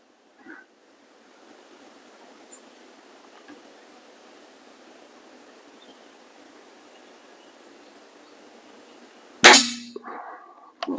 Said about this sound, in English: Whoops, you just spilled the pellets.